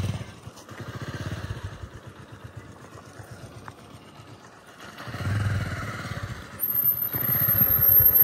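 A Pathao ride-share motorbike engine runs near Nagarkot with a low, pulsing mechanical throb that fades mid-way and then returns louder, with some clatter.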